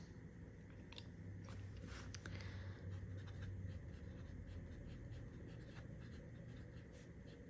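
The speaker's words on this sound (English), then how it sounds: "I'll just use one of my currently inked pens" An inked fountain pen moves across paper in quiet, scratchy strokes, a soft continuous rasp with small irregular ticks, faint and close, with a low background hum.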